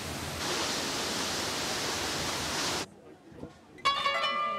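Düden Waterfall in Antalya, Türkiye, pours off a cliff toward the Mediterranean, fed from the Taurus Mountains. A loud, steady, hissing roar fills about three seconds, then cuts off abruptly, leaving faint rustles and a brief bright tonal ringing.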